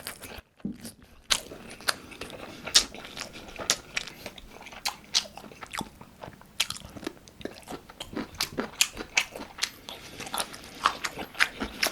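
Close crunchy bites and wet chewing of carbonara fire noodles with a cheese-stuffed pork loin cutlet, sharp crisp snaps repeating steadily at varied pace with no talking.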